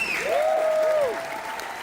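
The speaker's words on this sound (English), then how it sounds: "Can I just get a round of applause for my team that did this?" An audience at a live show event applauds in a full, steady round. A bright tone sweeps and glides over the clapping.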